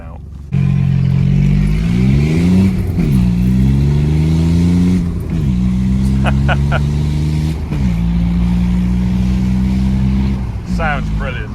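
A small hatchback's engine, either a Fiat Panda 100HP or an Audi A2, revs up repeatedly in rising sweeps over a steady engine drone, with people talking throughout.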